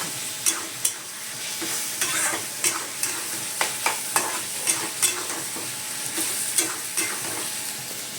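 Food fries in a pan under a steady sizzle while a utensil stirs it, producing regular scraping knocks every half second or so, close and clear without talk.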